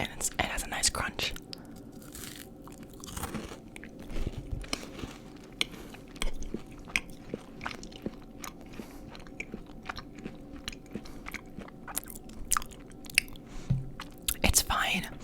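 Crunchy chewing of a Crumbl Butterfinger cookie, close and intimate, with irregular crisp bites and mouth sounds scattered across the stretch amid quiet, soft breathy pauses.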